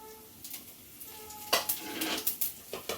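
Dry chilli, cumin, cinnamon, cardamom and cloves hitting hot oil in a pan, a soft sizzle followed by a run of sharp close crackles and pops, with no talking.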